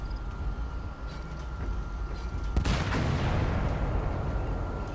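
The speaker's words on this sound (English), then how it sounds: "Just gotta wait for this tank to pull up." A tank pulling up in Metal Gear Solid V, a heavy rumbling engine and clanking treads that grow louder and closer midway, then hold at a steady roar.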